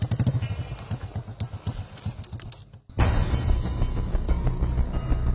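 A motorcycle heads down a steep, slippery road in the remote village of Hutajulu, its engine thumping and rattling close by; a brief dip near the middle gives way to a louder, steady rumble.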